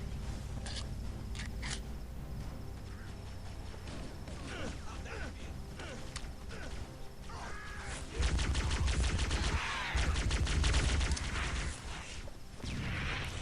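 Covering gunfire in the video game Halo: Combat Evolved crackles in rapid bursts under mixed game sounds and voices, growing heavier and louder in the later seconds.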